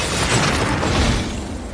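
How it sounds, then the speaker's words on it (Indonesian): Explosion of a mafia suitcase inside a car in the action film The Transporter, a loud, dense roaring blast that fills the whole moment with sustained rumble and debris noise. "Prank yang menyadari jika ledakan itu berasal dari koper mafia sebelumnya"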